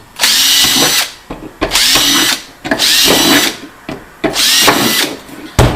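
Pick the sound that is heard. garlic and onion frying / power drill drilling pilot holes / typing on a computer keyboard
power drill drilling pilot holes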